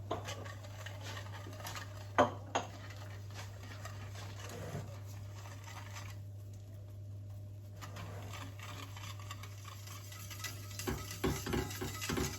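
A spoon stirring a mixture in a bowl to dissolve sugar, a soft, steady scraping with a few light clinks over a constant low hum, quiet and close, with no talking.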